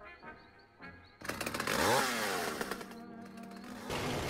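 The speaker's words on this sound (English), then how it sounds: "What is this chainsaw in my face?" A chainsaw in the video game Dead by Daylight revs up abruptly and roars loudly for several seconds, its pitch sweeping and wavering over a murky game soundscape, with no talk.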